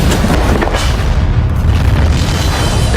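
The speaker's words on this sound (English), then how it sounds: "Explosives were detonated in carefully coordinated explosions that collapsed the building in on itself." Coordinated explosive charges detonate to bring down a building, producing a loud, sustained, rumbling boom that roars continuously for several seconds with heavy low-end weight and no voices.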